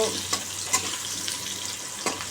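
An egg curry bubbles and sizzles in a pan on a home stove, a steady close hiss broken by a few soft stirring scrapes and clinks.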